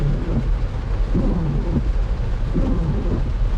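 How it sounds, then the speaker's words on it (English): Rain falls in the mountains of Southern California as a loud, dense, continuous downpour with a low rumbling undertone, steady throughout with no voices. "Yeah, it's rain."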